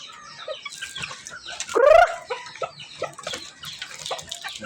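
Chickens and a rooster on a farm cluck and squawk close by while being fed, one loud rising squawk standing out midway, with other birds and faint scattered bird calls around.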